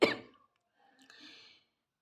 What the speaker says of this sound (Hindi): फिर से खाँसी आई